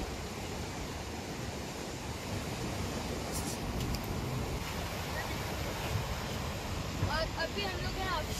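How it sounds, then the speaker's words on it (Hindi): Mountain meltwater river in the Kaghan Valley on the road to Naran rushes steadily as a broad, continuous wash of water, with a brief faint chirp near the end. "ये है वो पानी जो कि कुछ माउंटेन से आता है, जब आइस मेल्ट होती है"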